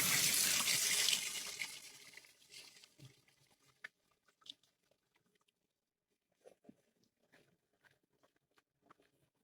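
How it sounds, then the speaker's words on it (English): Water rinses through a soapy coffee maker, a dense, close splashing patter that fades over a couple of seconds into scattered faint drips and small clicks. "I've been rinsing about it at least 7 or 8 times. It's still very slightly bubbly, soapy."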